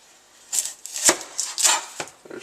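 Knife chopping the ends off an onion on a cutting board, a handful of crisp, uneven thuds and cuts, close and distinct with no talking.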